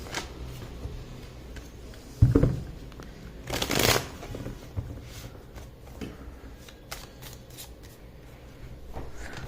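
Tarot cards being shuffled by hand: crisp riffling bursts and papery flicks, with one louder flurry near the middle and softer card handling throughout, close and clear.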